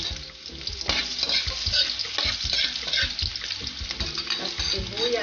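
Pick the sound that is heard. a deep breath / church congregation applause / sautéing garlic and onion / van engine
sautéing garlic and onion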